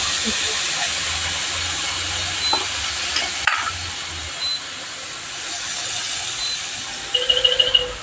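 Morala fish frying in hot oil with a steady, loud sizzle and hiss throughout, a stirring clatter near the middle and brief scraping bursts near the end.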